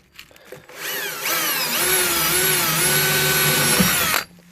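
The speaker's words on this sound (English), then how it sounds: "Right, I'm just going to drill down like that." A power drill bores through the steel floor of a VW T4 camper van, spinning up after a few faint clicks into a loud, steady high-pitched grinding whine that lasts about three seconds and then cuts off.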